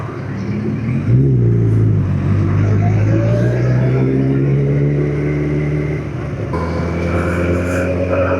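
A Kawasaki ZX14 sport motorcycle engine revs up and holds a steady, rising drone close by, with gear changes and renewed acceleration near the end.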